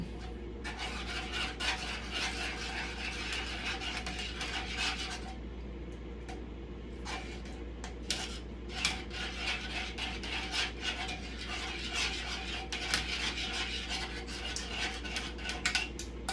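A utensil stirs milk into cheesy food in a pot, giving close, repeated scraping and rubbing strokes in quick bursts with brief pauses, over a low steady background hum.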